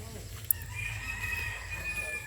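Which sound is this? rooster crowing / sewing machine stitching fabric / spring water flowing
rooster crowing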